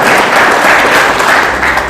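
A church congregation claps and applauds in a loud, dense, even burst of many hands that runs the whole moment without a break.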